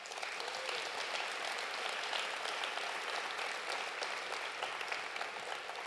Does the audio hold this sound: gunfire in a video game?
no